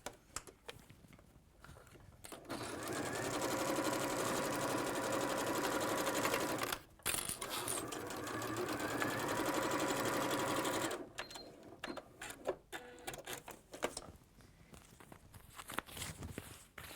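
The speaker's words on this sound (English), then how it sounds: "we'll sew through all of those layers to secure them together there" A sewing machine stitches through stacked cork base layers of a cosmetic bag in two sustained runs, the first longer and nearer, with quieter handling noises before, between and after.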